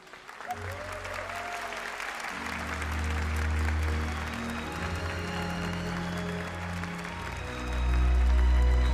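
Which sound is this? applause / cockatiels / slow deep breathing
applause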